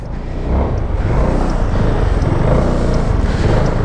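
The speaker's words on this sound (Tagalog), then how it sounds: "Nabutan pa tayo ng traffic." Steady road and engine rumble with wind buffeting while riding a Zontes 400M 400cc scooter in traffic, a continuous loud wash of low noise throughout.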